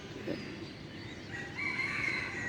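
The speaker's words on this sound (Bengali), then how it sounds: "সকালে ভোরে মোরগ ডাকছে" A rooster crows at dawn in a quiet village setting, a drawn-out call rising in the second half over a soft, steady backdrop of other birds calling.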